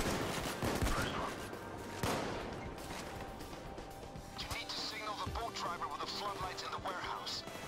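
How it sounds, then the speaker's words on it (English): Sniper rifle shots in the video game Payday 2. A few sharp cracks stand out early over busy, fairly faint game noise, and players talk throughout. "Wow, my sniper's loud."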